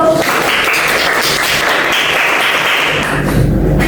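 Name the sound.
class applauding a student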